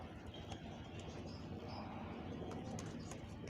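Low flyer pigeons of a prized breeding pair coo softly and steadily against a constant background hum, the calls low and blended rather than sharply separated, with faint chirps here and there.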